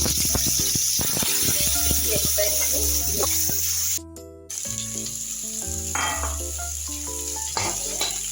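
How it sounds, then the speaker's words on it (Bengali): Five-spice, bay leaf and chopped onion fry in hot oil, sizzling loudly and close with clinks of a spoon against the pan. The sizzle briefly cuts out before continuing under background music. "ফোড়নে দিলাম পাঁচফোড়ন, তেজপাতা দিলাম, পেঁয়াজ কুচি দিলাম"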